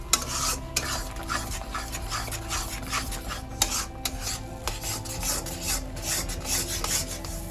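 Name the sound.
frying and stirring potol chingri bata paste in a pan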